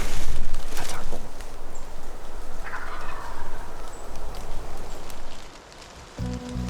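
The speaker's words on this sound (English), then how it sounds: "He's a GOBBLER." A wild turkey gobbler calls outdoors during a hunt, a loud, rough, rapid gobble near the middle of the clip standing out over steady rain and wind noise.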